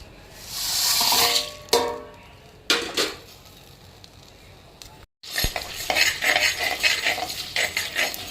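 Dried chillies, coriander seeds, pepper, cumin, fennel, cinnamon, cardamom, cloves, star anise and curry leaves dry-roasting in a pan, with stirring scrapes and rustling bursts, a brief pause, then continuous dense stirring and faint sizzle close by.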